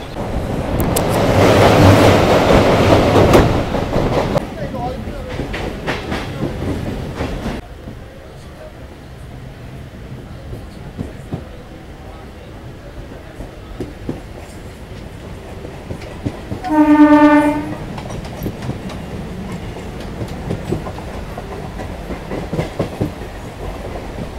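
Howrah–Digha local train running toward Santragachi Junction, loud rumbling and clatter at first easing into a steadier roll, with one short, strong horn blast near the end over the moving carriages.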